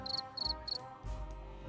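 Crickets chirping in three short, evenly spaced bursts of shrill trills over a soft background hum, heard alone with no voices.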